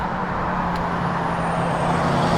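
Steady traffic on a busy street forms a continuous broadband roar with a low engine hum, moderately loud and without talking.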